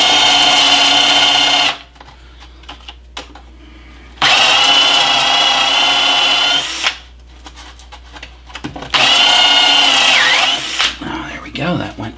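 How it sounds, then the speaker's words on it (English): A step drill bit bores out a metal fitting on an oxygen compressor inlet, a loud whining power drill in three long bursts separated by quieter pauses with clicks and handling noise. "So I'm just going to step drill this thing out a little."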